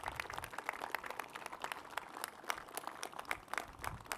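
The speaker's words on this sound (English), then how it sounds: "Let's give them a final round of applause." Applause from the audience at a memorial's ten-year anniversary celebration: a faint, steady patter of many hands clapping, heard alone without talk.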